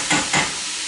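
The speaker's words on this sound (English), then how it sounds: "Starting to saute pretty good." Fresh garlic sautéing in a pan over lowered heat for white chicken chili, a steady sizzle that swells twice in quick stirring bursts before settling into an even hiss, with no talking.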